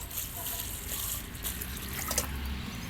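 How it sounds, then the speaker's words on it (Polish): Water poured onto soil around a newly planted peach tree, a steady broadband splashing and trickling that runs continuously at moderate level, with no talking over it. "i podlewamy porządnie."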